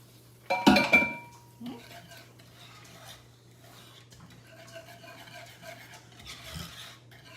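A whisk stirring cold milk into a pudding mixture in a pot, opening with a loud metallic clatter, then soft scraping and swishing against the pot under a low steady hum.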